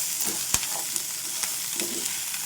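Sizzling frying in hot oil with turmeric stirred in for a ridge gourd curry, a steady close hiss broken by a few sharp utensil clicks, no voices.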